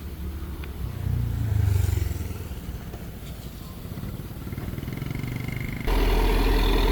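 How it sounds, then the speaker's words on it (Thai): A road roller's diesel engine starts up after its battery was flooded, with its rough engine rumble turning over and settling into a steady clattering idle, then growing louder at the end; fairly close, with no talk. "ติดเครื่องแล้ว ควันครับควันไหลเลยครับ"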